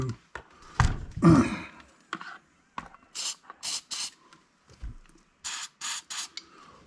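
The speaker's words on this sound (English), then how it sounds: "I'm going to spray a little bit more of this." Lubricant is sprayed onto the rear differential of an Arrma Typhon 3S RC car in several short, close hissing bursts, with a few mechanical clicks and handling noises between them.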